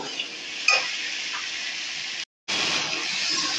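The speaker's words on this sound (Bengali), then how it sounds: "সবগুলো একসঙ্গে খুব ভালো করে আমি নেড়ে চেড়ে একটু ভেজে নেব" Eggs, potatoes and spice paste are stirred and fried together in a pan, making a steady close sizzle with a brief scrape, cut by a short silent gap before the hiss resumes.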